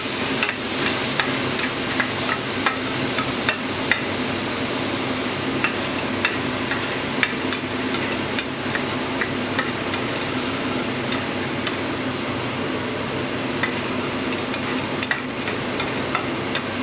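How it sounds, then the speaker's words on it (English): Cream is stirred into caramelizing onions in a pan, a loud, close, continuous sizzle with scraping stir strokes repeating throughout. "stir while we're adding it."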